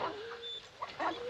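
Hounds whimper and yip in short, thin whines with a couple of brief sharper barks near the end, moderately loud and close.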